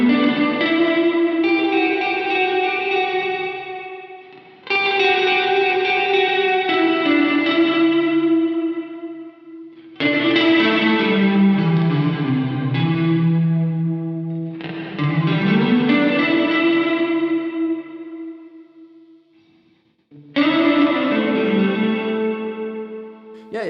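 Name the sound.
chorus effect on Cornerstone Nucleo guitar pedal, set around the middle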